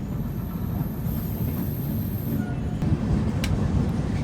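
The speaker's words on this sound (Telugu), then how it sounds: "5:14 రాజమండ్రి నుంచి అయితే బయలుదేరింది మన బండి" A passenger train runs on after pulling out of Rajahmundry on a Danapur to Bangalore service, giving a steady, loud rumble and rattle of carriage and track heard from inside, with no pauses.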